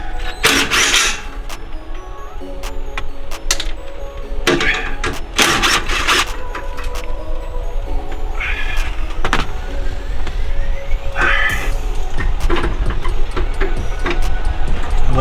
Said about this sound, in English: what I'm doing right now, is removing the 3 bolts. I mean 3 nuts that's holding the hanger